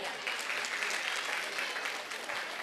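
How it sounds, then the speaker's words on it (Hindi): Audience clapping at a preschool event for a child, a continuous even wash of applause from a crowd, moderately loud and sustained without pause. "स्वामिल के लिए जोरदार तालियां."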